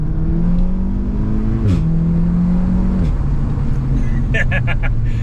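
VW Golf R engine roaring at full throttle, pitch climbing through DSG gear shifts with sharp pops and crackles near the end, heard from inside the cabin.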